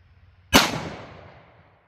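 A single sharp pistol shot firing Underwood 115 grain Xtreme Penetrator ammunition, a loud close crack after brief quiet that decays over about a second, with no voices.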